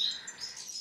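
European goldfinches in an aviary flight cage give thin, high chirps and twitters, faint and slightly distant against a quiet background.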